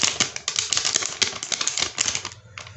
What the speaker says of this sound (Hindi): दूसरा फ़र्क ये है कि इसका जो असली नोट होता है इसका कागज़ ये आवाज़ पैदा करता है इस तरह